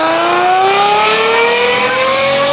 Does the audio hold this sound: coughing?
no